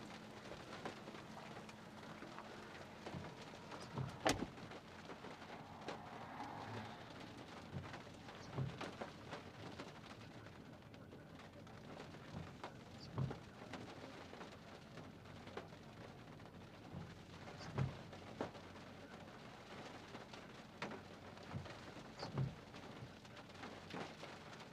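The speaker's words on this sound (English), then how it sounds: "There's that storm." Steady rain pours down during an Oklahoma thunderstorm, with distant thunder rumbling several times in low rolls beneath the constant hiss of falling water.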